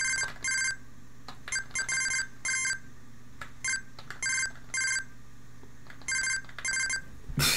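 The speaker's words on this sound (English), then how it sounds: "if you do this, it sounds like a phone." In the Game Boy pinball game Kirby's Pinball Land, an electronic phone-like ring sounds in quick paired bursts, repeating several times at a bright, fairly loud level over a faint background hum.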